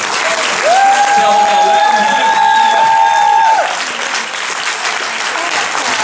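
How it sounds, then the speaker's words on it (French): A cinema audience at a film premiere applauds the cast; a loud wash of many hands clapping continues throughout, with a whistle rising above it partway through and cheering mixed in. "On les applaudit bien fort."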